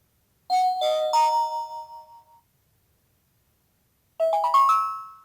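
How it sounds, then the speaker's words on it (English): Power-on chimes from a BOBLOV WA7-D body camera: a short rising run of clear electronic bell tones rings out alone and fades, then after a silent pause a second quick chime sequence plays. "The camera always plays chimes whenever you turn it on or off."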